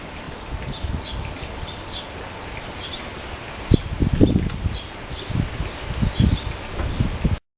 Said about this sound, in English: All you hear is the wind noise.